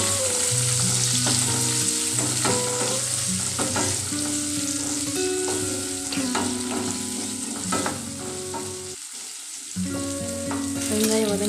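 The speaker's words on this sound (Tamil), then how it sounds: "சின்ன வெங்காயம் நல்லா வதக்கிக்கலாம்." Small onions sizzle and fry in a pan for drumstick sambar, a constant loud crackle with stirring scrapes and clinks of the spoon against the pan.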